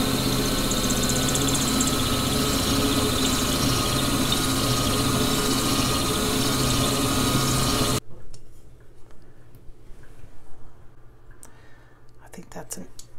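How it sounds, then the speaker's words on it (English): Power drill boring a drainage hole through a vintage ceramic dish, a loud steady grinding whine for about eight seconds that then cuts off, leaving quiet handling noises. "A little bit more drilling."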